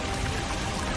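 A cartoon fire truck sprays water at full force, a dense, steady rushing hiss like a heavy pour. No talking is heard.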